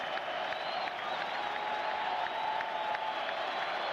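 Mets fans in a 1998 stadium crowd make a steady, loud roar of cheering and applause that holds without a break, with distant, blended voices.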